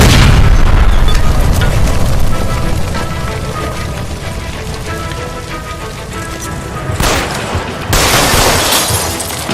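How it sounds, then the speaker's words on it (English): A gas line explodes in L.A. Noire with a loud roaring blast that rumbles and crackles on, fading slowly, followed by further bursts of debris and fire near the end. "Shoot the gas line, Cole, we're out of here!"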